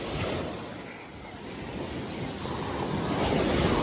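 Ocean surf washes steadily onto a beach near the tip of a cape, a broad continuous roar of breaking waves with wind buffeting the microphone, swelling slightly toward the end.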